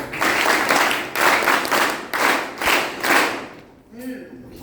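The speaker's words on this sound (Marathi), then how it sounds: "टाळ्या वाजवूया." An audience claps together in several bursts of applause, fairly loud and close, each swelling and fading, with a pause near the end before a faint voice.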